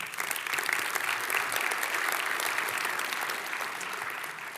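Sustained applause from an audience, an even wash of many hands clapping at a steady level throughout.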